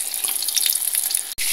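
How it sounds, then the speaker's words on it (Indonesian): Frozen chicken sempol sizzles in hot frying oil, a dense, bright, continuous crackle heard up close, broken by a brief dropout near the end, with no talk. "Yang ini kita goreng yang telah dimasukin di freezer ya."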